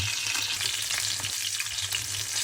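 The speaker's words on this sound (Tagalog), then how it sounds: "ang ating piniritong isda" Sea bream fries in a pan with a loud, constant sizzle and crackle that runs unbroken throughout, with no voices.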